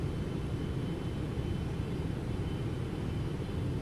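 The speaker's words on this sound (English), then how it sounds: "You get the feeling that you're flying a massive airplane that has a ton of weight to it" A Flight Factor 777 airliner on hand-flown final approach in X-Plane 12 gives a loud, steady broadband rumble of engines and airflow throughout, with no speech.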